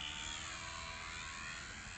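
A P-51D Mustang's piston engine at takeoff makes a steady, far-off droning roar that holds at an even level with no voices.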